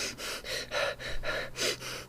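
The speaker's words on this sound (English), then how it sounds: "when you're breathing like this" A person demonstrates shallow, rapid breathing, about seven quick close-up breaths in two seconds, each a short airy huff in a steady rhythm with no talk.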